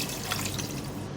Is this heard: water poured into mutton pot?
yes